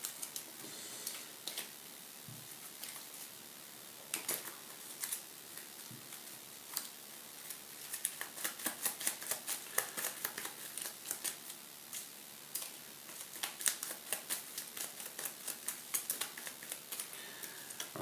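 A deck of cards being shuffled up close, with quick riffling bursts and soft snapping ticks repeating in uneven runs.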